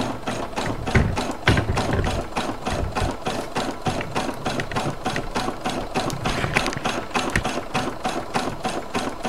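An embroidery machine sews a satin stitch into a hooped towel, making a fast, steady, rhythmic clatter of needle strikes that runs close and continuous throughout, with no voices over it.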